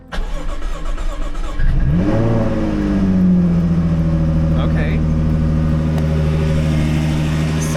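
A supercharged Jaguar F-Type engine cranks and fires, its revs sweeping up then settling into a loud, steady idle, with a brief spoken word just before it catches.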